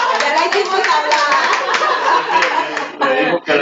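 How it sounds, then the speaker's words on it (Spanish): An audience claps for a woman named Marisol at an inspirational tour event in Chicago, loud close clapping mixed with chuckles and laughter, cutting off abruptly near the end. "Denle un aplauso a Marisol"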